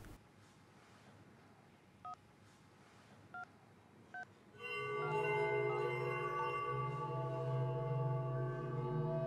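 A telephone call being dialed and going unanswered: three faint short beeps spaced a second or so apart over quiet background, then a loud steady ringing tone that starts midway and holds to the end.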